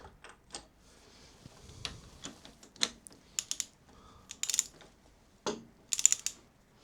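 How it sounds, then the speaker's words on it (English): A wrench tightens the steering stem nut on a Kawasaki Versys 1000 SE during a bearing replacement, giving a run of sharp metallic clicks and ticks in irregular short bursts, close and fairly crisp. "I'm gonna tighten this a little bit"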